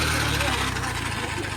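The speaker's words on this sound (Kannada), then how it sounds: "ಫೈನಲಿ ಬೈಕ್ ಎಲ್ಲ ಚಾಲು ಆಯ್ತು" A motorbike engine runs steadily after being started, a low continuous rumble with a faint pulsing beat, close by and loud, with a speaking voice overlapping it.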